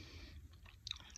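A crunchy sweet from a candy assortment is bitten and chewed close up, a brief, faint crackling crunch over low background noise.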